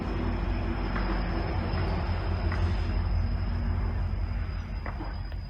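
A six-car GO commuter train in Toronto rolls by at a slow, even pace, a heavy sustained rumble with occasional clanks and a high whine over it, close by.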